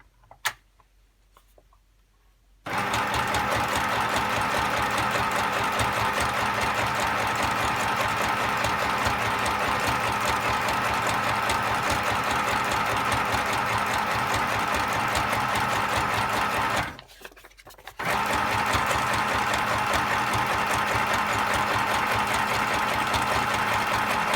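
A sewing machine runs close up, zigzag stitching through junk journal pages in a fast, even mechanical chatter, starting after a short pause and stopping briefly once before running on steadily.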